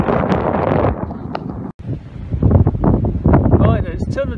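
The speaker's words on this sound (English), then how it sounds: "wind blowing straight across from right to left" Wind sweeps across a golf course at Royal Ascot Golf Club, buffeting the microphone with loud rumbling gusts under and between stretches of someone talking.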